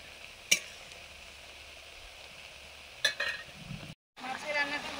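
Fried fish are added to a boiling curry broth and stirred, a soft simmering sizzle broken by two sharp utensil clinks and a brief cutout near the end.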